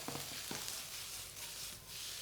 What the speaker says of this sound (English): So this is very much a sort of slow stir fry.